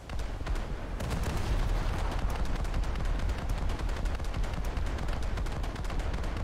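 Naval ship guns firing in War Thunder naval battles, a rapid, continuous barrage of sharp gunshot bursts with heavy booms underneath, loud and sustained throughout.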